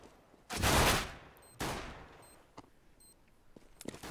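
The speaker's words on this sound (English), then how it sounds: "Bullets flying from every which way." Rifle fire in a Counter-Strike match on the Mirage map: two heavy bursts of shots in quick succession, followed by scattered lighter single shots and faint clicks, with no commentary over them.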